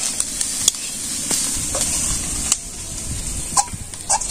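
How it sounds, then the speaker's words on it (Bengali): Onions and chilies fry together in a village kitchen pan, a steady low sizzle and hiss broken by a few light stirring clicks, close and fairly quiet with nobody speaking. "পেঁয়াজ মরিচ সব ভেজে নিলাম একসাথে"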